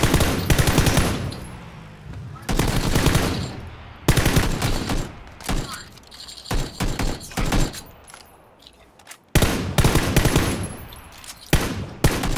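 Bursts of machine gun fire in a video game rattle out loud and close, several long volleys separated by short pauses, alone without talk.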